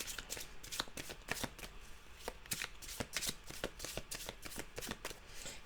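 Oracle cards being shuffled before an animal card is drawn, a rapid run of crisp riffling snaps and soft card slaps repeating steadily at close range, with no voices.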